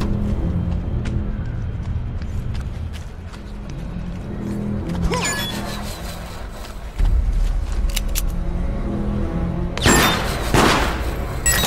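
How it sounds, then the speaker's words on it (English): Gunfire in the video game Deceit sounds as a few sharp cracks and a loud burst near the end, over a steady low in-game hum. "I heard gunfire."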